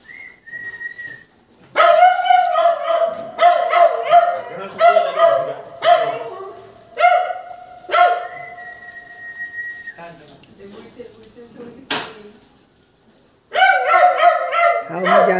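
A dog barks at a gate, giving bursts of repeated, loud, close barks and yips separated by short pauses, while people talk and call out nearby.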